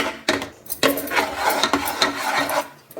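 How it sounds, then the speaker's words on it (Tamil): Thickening homemade mango candy mixture stirred in a pan, with repeated scraping and knocking strokes of a spoon against the pan, close and fairly loud, and no talking. "இதை நல்லா கிளறி விட்டுக்கிட்டே இருங்க."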